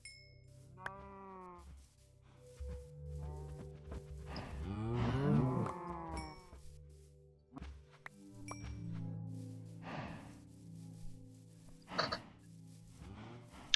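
Minecraft cows moo several times at irregular intervals, drawn-out low calls, some overlapping, set against quiet game ambience.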